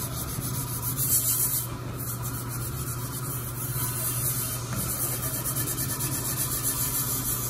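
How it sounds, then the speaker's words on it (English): Steady abrasive scrubbing on a rusty cast iron skillet, a continuous close rasping hiss that holds at an even level throughout with no talking. "we'll just keep scrubbing all the surfaces off"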